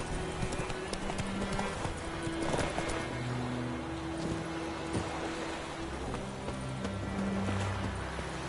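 Horse hooves clip-clopping at a steady pace in The Witcher 3, a rhythmic plodding beat under continuous game ambience and music, with occasional faint voices.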